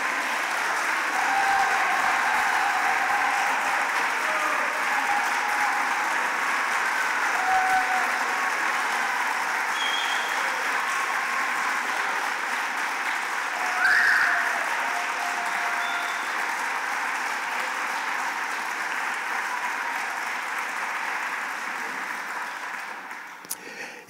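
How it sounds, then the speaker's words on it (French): Audience at a tribute concert applauding the musicians, sustained dense clapping that holds steady for the whole stretch before ending abruptly. "féliciter et applaudir comme il se doit les excellents musiciens et musiciennes qui m'ont accompagné aujourd'hui"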